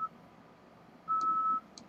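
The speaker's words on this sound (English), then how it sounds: "I'm so sorry if you guys can hear the beeping sound at the back" Faint electronic beeping in the background: a sustained high tone for about half a second, followed by two short chirps, over a low room hum.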